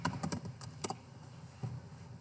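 Quiet computer keyboard typing, a short burst of several quick clicks followed by a pause and a couple of final taps, as a name is entered into a search box.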